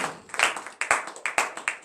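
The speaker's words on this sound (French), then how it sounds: "Donnez l'acclamation à Jésus." A church congregation claps in acclamation at the close of a morning prayer, a short run of sharp, fairly close handclaps in an uneven rhythm, with no talk over it.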